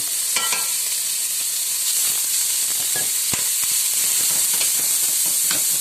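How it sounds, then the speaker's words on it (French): Small pieces of bacon (lardons) sizzle and crackle steadily in a hot pan, a constant bright hiss with occasional pops and stirring scrapes. "on va directement enchaîner par nos lardons qu'on va faire suer"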